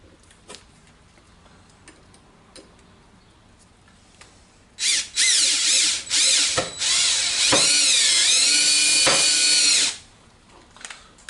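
Power drill driving a 1-inch screw while building a homemade riot shield, a loud close whine lasting about five seconds in short bursts, then a sustained run, after quiet handling clicks.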